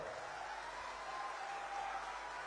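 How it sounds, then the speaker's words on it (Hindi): Crowd at an outdoor political rally in Saraikela applauding, a steady continuous wash of clapping with a faint background murmur and no gaps. "जोर से ताली बजाओ।"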